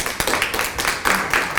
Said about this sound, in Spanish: un aplauso gigante para Johnny